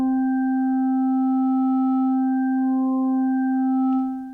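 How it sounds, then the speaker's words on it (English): Sonicware Liven Evoke wavetable synth holds a single steady tone with sync modulation, its upper harmonics slowly shifting over a few seconds before fading at the end, alone with no voices. "you can hear some modulation again, and that's because when this parameter is set to sync, we have modulation being applied to our wavetable"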